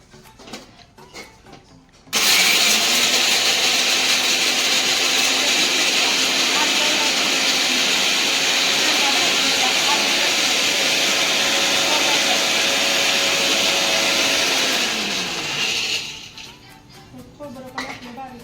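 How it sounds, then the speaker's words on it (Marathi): A kitchen mixer grinder finely grinding coconut for a vegetable dish runs loud and steady for about thirteen seconds, then winds down and stops; quieter kitchen sounds come before and after. "खोबरं भाजीला अगोदर बारीक करून घेणार आहे."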